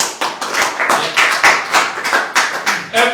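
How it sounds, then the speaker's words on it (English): Workshop audience at a job preparation session clapping together, a dense close burst of rhythmic claps repeating steadily and loudly throughout. "Give me a clap"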